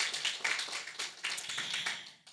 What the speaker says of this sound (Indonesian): Tepuk tangan yuk buat Tuhan Yesus Kristus.